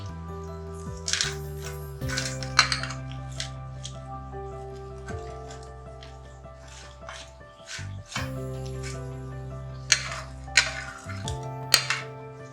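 Fries tipped into a metal baking pan make scattered light clinks and rustling taps, with a few sharper metallic knocks spread across the stretch and quiet gaps between them.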